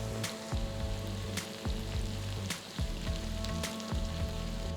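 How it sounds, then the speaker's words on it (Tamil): Steady sizzling and crackling of chopped shallots frying in hot coconut oil for chicken curry, close and continuous, with occasional sharp pops. "அடுத்து 10 சின்ன வெங்காயம் நறுக்குனது சேர்த்து வதக்குங்க."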